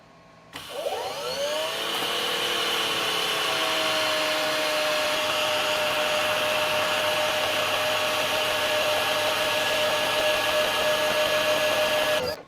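EGO 56V battery pressure washer (3200 PSI, 1.2 GPM) starting up and running on high speed, a loud continuous motor whine with a rising pitch sweep at start-up, then steady until it cuts off.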